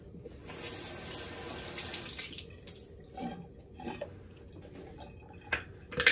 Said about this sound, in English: Olivia, I'll wet my face and we'll get going on this